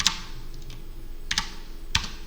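Typing-practice keystrokes on a computer keyboard, a few sparse clusters of crisp clicks separated by pauses, close and fairly quiet.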